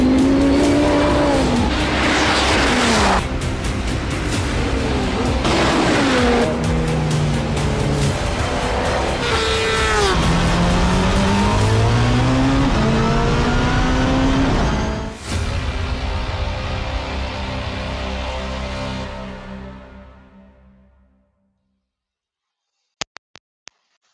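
Race cars lapping the Nürburgring GP circuit during a time attack event, engines roaring loudly with rising and falling pitch as they pass, tires squealing, then fading away into near silence with a few faint clicks at the end.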